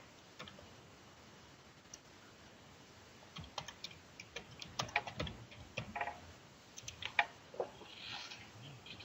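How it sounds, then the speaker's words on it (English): Quiet keyboard typing, with scattered clicks that build into busier bursts of keystrokes, heard from a short distance in an otherwise still room. "I hear a lot of typing."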